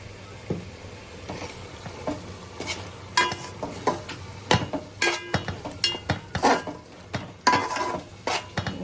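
Chicken fries with masala and chili powder for pulao and is stirred in a pan, with a faint background sizzle under frequent irregular scrapes and metallic clinks of a utensil against the cookware.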